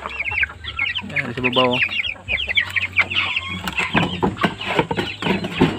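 Chickens cluck and chatter busily in a new coop area of a broiler farm, many birds close by in overlapping bursts, with someone speaking briefly over them.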